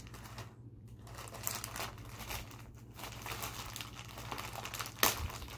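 Plastic packaging crinkles and crackles as it is pulled apart during unwrapping, a steady run of soft rustling close up, with a sharper tear near the end.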